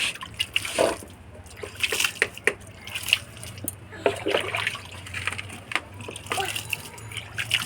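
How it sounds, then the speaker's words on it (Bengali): Water sprinkled by hand onto young bottle gourd seedlings, giving scattered soft splashes and patters at close range, uneven in rhythm and fairly quiet. "এই যে আমি এরকমভাবে ছিটিয়ে ছিটিয়ে গাছে জল দিচ্ছি।"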